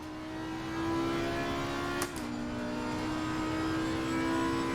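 An Audi R8 GT3 Evo in the racing game Assetto Corsa Competizione powers out of a hairpin at Suzuka, a steady engine drone with a brief dip mid-way as it shifts, then holding at a high pitch.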